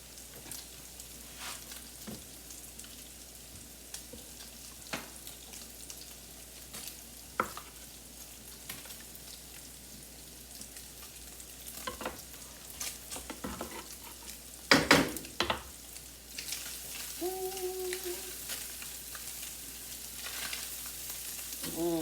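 Garlic frying with Spam, leftover rice and vegetables in a pan, a quiet steady sizzle with occasional stirring scrapes and utensil clinks, one sharper clatter partway through, no speech.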